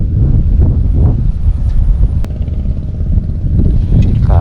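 Strong gusts of wind buffeting the microphone outdoors by the water during a fishing trip, loud rumbling roar throughout with brief pauses.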